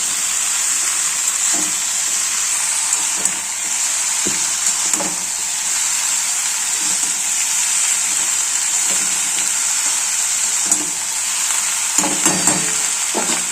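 Fresh pumpkin stems frying in a pan, a continuous bright sizzle with scraping stirs at irregular intervals, close and steady, no talking.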